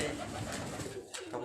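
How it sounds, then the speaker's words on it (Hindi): Pigeons coo softly amid an airy, hissing background in a pigeon-keeping setting in Karachi, a short murmuring call with a faint voice nearby. "कबूतर है"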